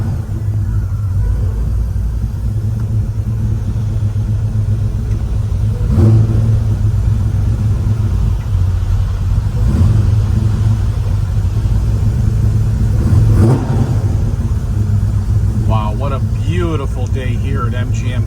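A 1967 Chevrolet Chevelle SS396 drives along with a loud, steady engine rumble, the revs swelling a few times, while someone talks over it.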